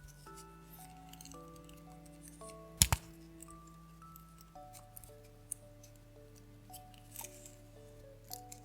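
A single quick snip of scissors cuts leftover crochet yarn near a bag handle, close and crisp against a quiet indoor background with faint soft music.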